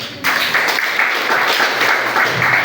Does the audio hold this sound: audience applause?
yes